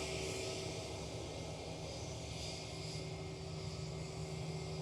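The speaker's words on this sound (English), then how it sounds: "that's KLM A330" A KLM Airbus A330 airliner at Amsterdam Schiphol produces a faint, steady engine drone with a sustained tonal hum running underneath, even and unbroken, without speech.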